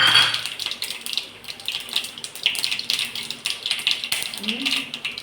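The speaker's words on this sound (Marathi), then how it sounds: "आता आपलं तेल छान तापलंय। त्याच्यात टाकूया जिरे, मोहरी," Cumin and mustard seeds hit hot oil in a pan and sputter with a dense, uneven crackle of tiny pops, close and fairly loud, running continuously throughout.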